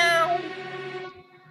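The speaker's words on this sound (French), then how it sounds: "ils entendirent un chat miauler." A cat meows in one drawn-out, loud and close call that fades away, heard alone with no talking, part of a French telling of the town rat and country rat fable.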